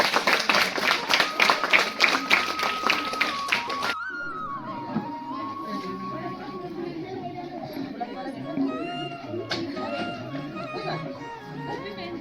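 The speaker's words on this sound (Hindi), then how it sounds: "सभी छात्र छात्राएं ताली बजाकर थोड़ा स्वागत करेंगे" Students at a school social science project competition clap in welcome, a dense burst of rhythmic applause that stops abruptly after about four seconds, followed by a sustained sung or intoned melody with people murmuring.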